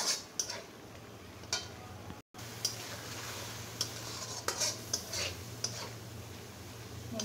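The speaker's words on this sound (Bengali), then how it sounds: "এবার আমি সম্পূর্ণ মশলাটা খুব সুন্দর মতো কষিয়ে নেব" Spice paste sautéed in a pan for a goat tripe curry, cooked until the oil separates: a steady low sizzle with repeated light scrapes and clicks of a spoon against the pan, close by and with no talk.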